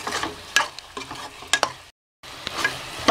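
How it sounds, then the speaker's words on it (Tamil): Onion and tomato being sautéed in a pan for chicken biryani, with a steady sizzle and repeated scraping stirs, briefly cut to silence before the frying and stirring resume close up. "ரெண்டு நிமிஷம் வதக்குவோம்."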